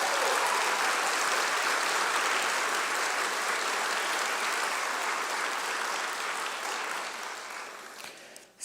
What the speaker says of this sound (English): for his years of exceptional service with a big round of applause for Dr. Markowitz.